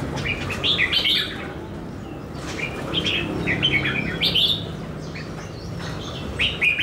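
Small caged songbirds chirp and tweet in repeated bursts, fairly close, with short pauses between calls over a low background hum.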